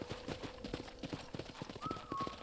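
Horse hooves clip-clopping at a ranch corral in Red Dead Redemption: a steady, fairly close trotting rhythm of hoof beats across the whole stretch, with a brief whinny-like tone near the end.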